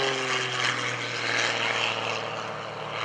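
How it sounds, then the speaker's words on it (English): An MX2 aerobatic propeller airplane at the Greenwood Lake airshow, a loud, steady buzzing engine roar with strong harmonic tones, close and continuous for a few seconds without voices. "Gary Ward coming back around with his MX2 here."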